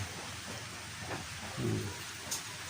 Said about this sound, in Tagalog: Naghihintay lang kami kasi umuulan pa.